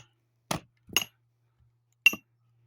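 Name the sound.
sledgehammer striking a metal wedge while splitting wood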